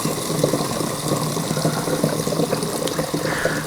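Water pours from a 1950s Sparklets soda syphon with a red bakelite head into an old Streamline Mark II syphon, a steady close trickling splash that runs continuously without a break.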